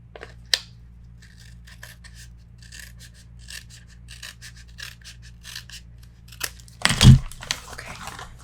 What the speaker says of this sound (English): I need to trim a little bit more of that.